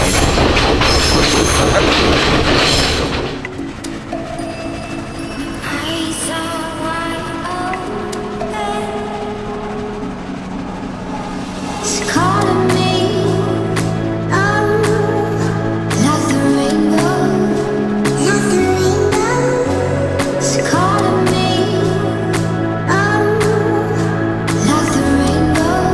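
A Sri Lankan train on the Kandy to Ella line rolls along loudly and steadily, with rumbling wheels, rhythmic clickety-clack over rail joints, metallic screeching and bursts of carriage rattle throughout.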